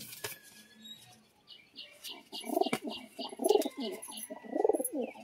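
Kaldom pigeons, including a male, coo close by in repeated soft rolling phrases, three or four bursts in a row with a few faint chirps and rustles between.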